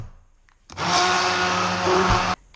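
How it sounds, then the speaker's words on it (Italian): An immersion blender whirs loudly as it purees vegetables in a tall measuring cup, starting abruptly after a brief quiet moment and running steadily for under two seconds before cutting off. "Mettiamo le verdure dentro un bicchiere dosatore alto e le andiamo a frullare con un frullatore a immersore."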